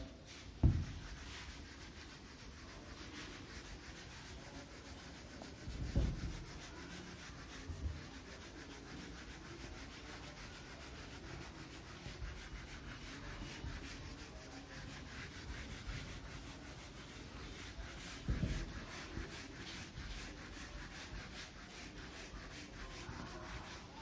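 A board being rubbed clean in a classroom, continuous brisk scraping and swishing strokes for the whole stretch with a few louder knocks, close by and without talking.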